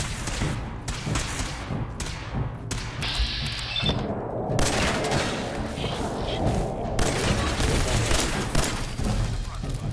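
Gunfire in Fallout 4 while shooting an enemy, a dense run of loud shots and impacts that continues with game sounds, no voice over them.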